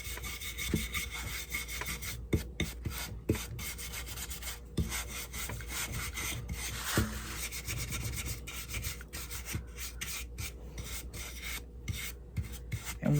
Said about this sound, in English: Taking my wax here, and I'm just going to put it on.